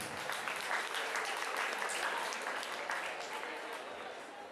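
An audience at a summer anime convention's AMV contest results ceremony applauds a winner, a steady burst of clapping from many hands that slowly fades, without any talk.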